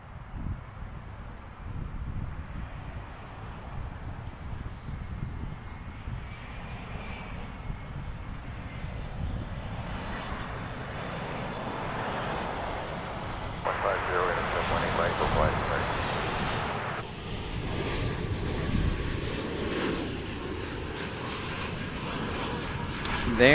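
An Embraer E175 airliner arrives at Dallas/Fort Worth International Airport, its jet engines roaring steadily in the middle distance and swelling slightly, with wind buffeting the microphone and people talking over it.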